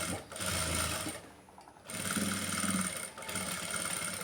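A sewing machine stitching a designer blouse runs in steady, close whirring bursts, briefly slowing and dropping off mid-way before picking up again at full speed.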